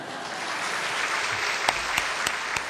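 A church congregation claps together in a sustained, fairly loud round of applause, a continuous wash of hands with a few sharper individual claps standing out near the end.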